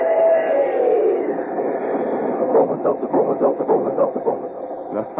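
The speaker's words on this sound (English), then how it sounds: "swing aboard our famous talking train" A rumbling locomotive sound effect for the Bromo Seltzer talking train in an old radio broadcast, its chugging rhythm growing more distinct and pulsing toward the end, loud and alone.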